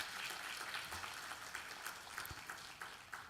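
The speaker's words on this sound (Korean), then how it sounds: "우리 하나님께 감사의 박수를 드립니다" A church congregation gives a brief round of applause during a worship service, soft and distant, a steady even patter of many hands throughout.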